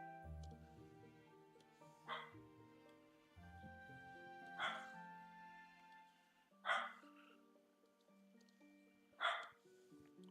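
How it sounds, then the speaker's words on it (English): A puppy barking indoors, four short separated yips spaced a couple of seconds apart, over a backdrop of sustained tonal music. "puppy, stop barking."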